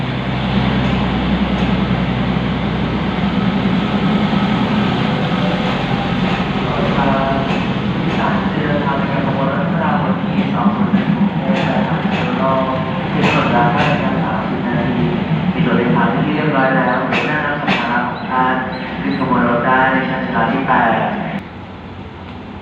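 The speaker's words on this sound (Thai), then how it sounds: "ดีเซลราง ธรรมดานะครับกรุงเทพหัวหินนะครับ ก็ กำลังออกจากสถานี รถไฟหัวลำโพงนะครับ" An ordinary Bangkok–Hua Hin diesel railcar rumbles and hums as it pulls away from Hua Lamphong station in Bangkok, with someone talking over the engine noise throughout.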